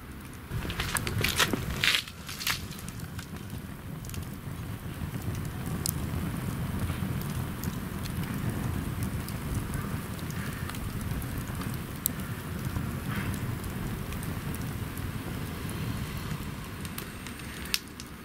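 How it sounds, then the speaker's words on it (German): Molten lead melted over a wood fire in a fire bowl dripping into a bucket of water, a dense continuous crackling and sizzling hiss with a few sharper pops near the start, close and steady throughout. "Da tröpfelt schön Blei ins Wasser."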